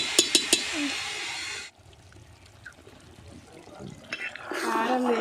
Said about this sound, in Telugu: ఇప్పుడు ఈ పైన ఉన్న వాటర్ పోసి మంచిగా ఉడికించుకున్నాం